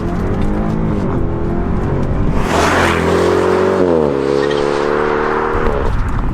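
A stock BMW 650i V8 engine revs up steadily and loud, its pitch climbing then shifting as it accelerates, with a steady drone underneath and no talking.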